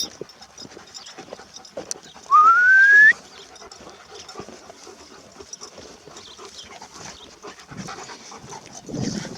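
Rapid, rhythmic dog panting continues throughout, fairly close, broken by a short rising whistle near the start and scattered small rustles.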